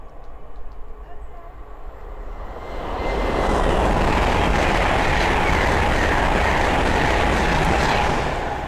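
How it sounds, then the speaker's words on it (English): A Hull Trains Class 800 on the East Coast Main Line at Sandy, running from London King's Cross to York, swells from a distant hum into a loud, sustained roar and rush as it passes close by. "Then we have a Hull Train 800 coming down"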